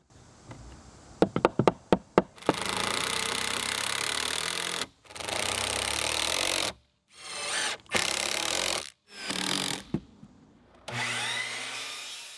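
A few sharp knocks on wood, then long bursts of a power drill whining as long deck screws are pre-drilled, countersunk and driven, stopping and restarting several times, close and loud.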